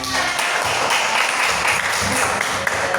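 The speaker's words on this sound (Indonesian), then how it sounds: "Oke, tepuk tangan dulu sebentar." Schoolchildren clap their hands together in a classroom, a dense, steady burst of many small hands lasting a few seconds, fairly loud and close with a murmur of young voices mixed in.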